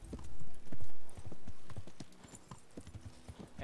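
A horse ridden along a path in the medieval game Kingdom Come: Deliverance, its hooves clip-clopping in a quick, uneven rhythm of close, sharp strikes, with a few louder swells of ambient noise early on.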